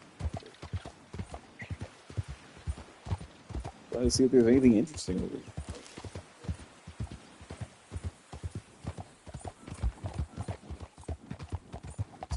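Horse hooves clip-clop in a steady rhythm through the whole stretch in the video game Red Dead Redemption 2, with a snort or whinny near the middle, under someone talking casually over the top.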